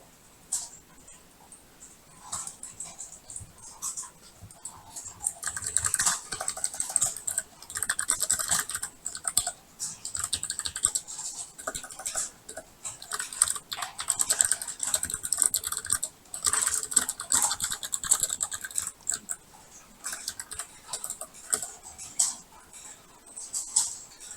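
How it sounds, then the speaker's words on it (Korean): Fingers type on a computer keyboard during a Python programming lesson, producing bursts of rapid, close key clicks with short pauses between runs and a few firmer key presses. "다음 블록에서 Shift 엔터를 누르면 다음으로 넘어가죠."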